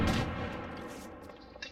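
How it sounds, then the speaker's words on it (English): A frag grenade in the America's Army: Proving Grounds video game goes off in one sharp, loud blast that decays into a rumbling tail within under two seconds. "Tossing frag!"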